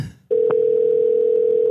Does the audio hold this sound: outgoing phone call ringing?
yes